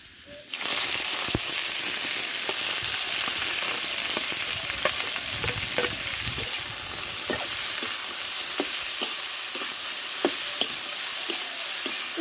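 Ash gourd drops into hot oil already frying dried red chillies, cumin seeds and bay leaves, bursting into a loud, steady sizzle with occasional scraping stirs and clicks throughout.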